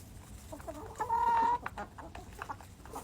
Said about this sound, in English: I have a rooster staring at me from the other end.